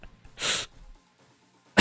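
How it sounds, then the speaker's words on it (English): A single cough blasts straight into a close microphone during a Don't Starve Together beta game stream. It is one loud, breathy burst lasting about a quarter second, followed by near silence and then a sharp noise at the very end. "I didn't mean to cough in the microphone"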